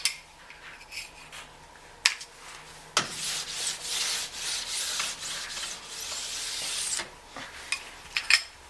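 A 1500 grit stone rubbed along the edge of a new ski, giving a run of gritty scraping strokes with sharp ticks and taps between passes, close and alone.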